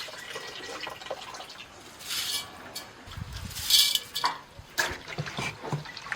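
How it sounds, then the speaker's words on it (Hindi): Washed wheat being tipped into a strainer as the water drains off, with irregular splashes and trickles, a louder gush midway, and dripping that comes and goes in bursts. "गेहूं को 2-3 पानी धोने के बाद एक स्ट्रेनर देंगे और उसमें गेहूं को निकाल देंगे इस तरह से।"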